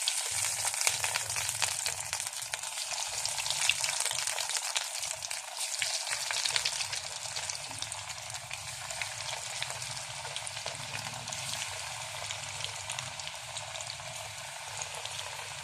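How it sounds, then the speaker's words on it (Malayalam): Chicken nuggets fry in hot oil with a steady, close crackling sizzle and scattered pops that continue without a break, with no voices. "ഇനി ഇത് ചൂടായ എണ്ണയിലേക്കിട്ട് നമുക്ക് പൊരിച്ചെടുക്കാം"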